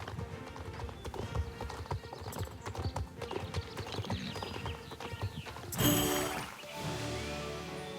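Horse hooves clip-clop rapidly in Star Stable Online, a quick galloping rhythm, then a burst of brighter noise and a neigh-like sound near the end, with no talking.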